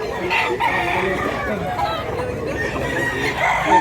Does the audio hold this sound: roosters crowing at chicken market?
yes